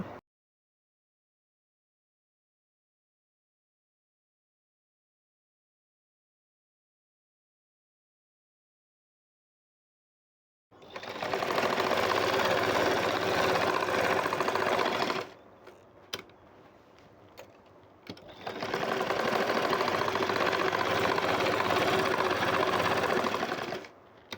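A sewing machine stitches the side seam of a borka, running in two loud sustained bursts of about four and six seconds separated by a quieter pause, after a long stretch of silence.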